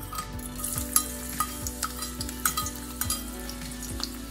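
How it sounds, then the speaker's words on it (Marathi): Garlic sizzles loudly in hot oil while a utensil scrapes and taps the pan in a steady stirring rhythm. "आता तेल तापलेले, आपण त्यामध्ये लसूण टाकू"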